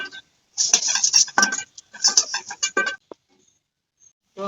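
Fried lentil fritters being lifted from a pan with a metal utensil, a run of bright clinks and scrapes of metal against the pan, close and clear, then a short pause and a final clink.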